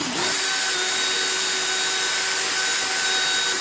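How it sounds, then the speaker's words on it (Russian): A power drill drilling a metal plate whines steadily at high speed, a continuous bright mechanical drone close to the microphone with no talking. "вот решил я эту пластину просверлить"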